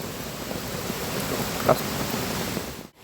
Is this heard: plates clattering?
no